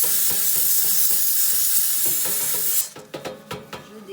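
A Vapodil steam cleaner hisses strongly as it blasts oven bars and the oven interior, a loud continuous jet that cuts off abruptly, followed by scattered clicks and scraping taps.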